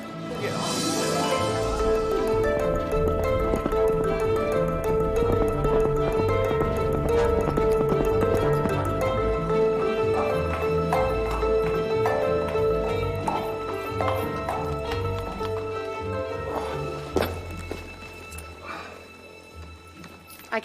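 Horse hooves clip-clopping at a steady rhythm, mixed under a full, continuous musical score that fills the scene throughout.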